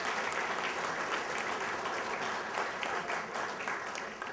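Audience applause fills a gala hall, a steady dense patter of many hands clapping at an even, loud level throughout with no voices rising above it.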